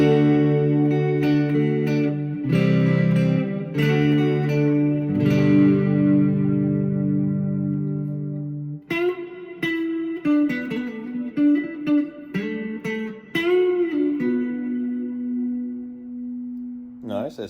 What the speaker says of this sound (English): A nice heavy reverb sound